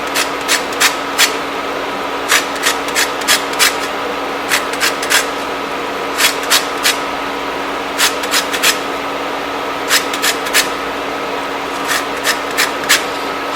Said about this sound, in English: I'm going to use half and zest it